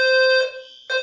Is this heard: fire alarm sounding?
yes